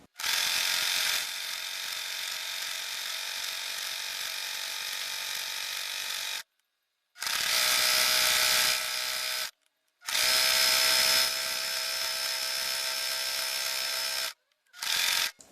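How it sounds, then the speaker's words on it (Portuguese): Domestic sewing machine stitching around the edge of an embroidered fabric placemat, a steady motor whir running in three long bursts separated by short pauses, close and fairly loud with no talking. "a gente vai fazer a costura aqui"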